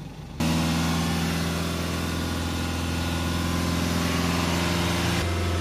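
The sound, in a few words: Jaguar F-Pace 2.0 diesel engine held at raised revs by pedal depressor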